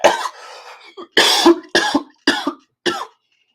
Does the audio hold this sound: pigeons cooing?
no